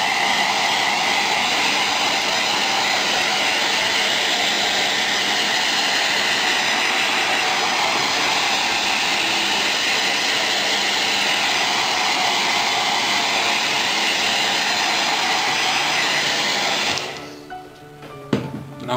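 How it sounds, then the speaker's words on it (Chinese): Hair dryer blowing steadily on wet ink freshly printed on a T-shirt from an A4 textile printer, a loud continuous broadband whoosh that holds for about seventeen seconds before cutting off, leaving faint handling noises. "所以呢，我们先用电吹风把表面墨水吹干，"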